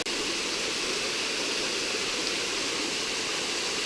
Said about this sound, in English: We have a lot of waterfall.